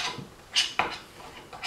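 Spoon scraping and clinking against a bowl while stirring a thick no-bake cookie mixture, a few sharp scrapes amid soft rubbing, close and fairly quiet.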